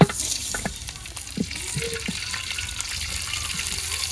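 Broad beans sizzle and fry in hot oil in a village kitchen, a steady close crackle with occasional stirring knocks, no talking.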